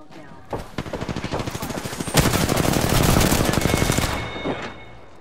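Rapid automatic gunfire in the Apex Legends battle royale shooter, a sustained burst of close, loud shots that thickens into a dense volley before tapering off.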